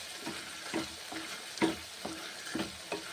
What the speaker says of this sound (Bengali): এইভাবে রান্না করছি পনিরের তরকারি